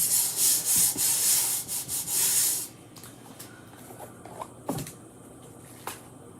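A decal transfer is rubbed down by hand onto clean glass for a flower shadow box, giving a close, steady scraping friction in quick repeated strokes for a few seconds before settling into quiet with small taps.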